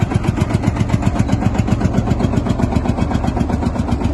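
A John Deere 4240S tractor engine runs at a tractor show at Newby Hall, a loud, close, even diesel thrum with regular rapid pulses and no talk over it.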